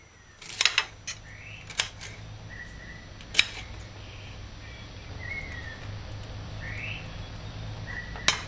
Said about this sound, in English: Dice the pineapple fruit